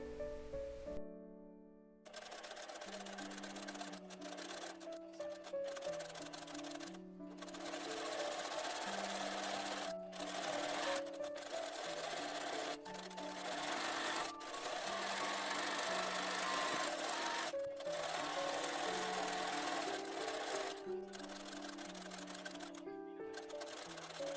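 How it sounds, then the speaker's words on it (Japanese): A sewing machine stitches a raglan-sleeve stand-collar jacket, running in steady fast bursts with brief stops between runs, close and fairly quiet against a soft music bed. "固定し終わったら、図のように出来上がりの位置を縫っていきます。"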